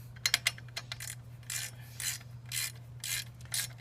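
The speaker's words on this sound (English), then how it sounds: "I'm gonna tighten this one up a little bit more, so that way I can move the bike" Tightening a bolt on Givi engine guard crash bars fitted to a Yamaha XSR900 motorcycle: a few sharp ratchet clicks early, then a steady series of rhythmic rasping pulls, close and fairly quiet, with no talk.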